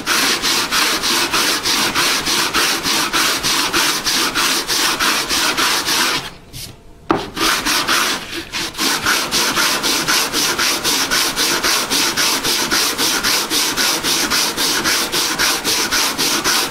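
80 grit sandpaper rubbed on a wooden electric guitar body in fast, steady back-and-forth strokes, loud and close, with one brief pause partway through before the rasping resumes.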